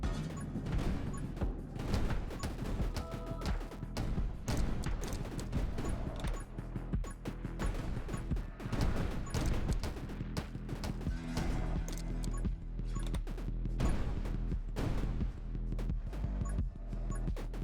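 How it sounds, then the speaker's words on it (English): Random explosions in the video game 20 Minutes Till Dawn burst in a dense, relentless barrage of loud crashing hits and rapid-fire blasts that never let up. "It just like creates random explosions everywhere I have to like worry about."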